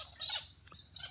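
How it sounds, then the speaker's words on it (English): Two short, shrill calls from parrots in outback Australia, separated by a brief pause and heard fairly close in quiet surroundings. "There's beautiful parrots everywhere."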